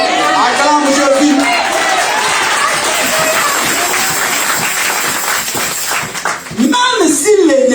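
A church congregation applauding to acclaim Jesus, a sustained wash of clapping and crowd cheering with voices calling out over it throughout, loud and close.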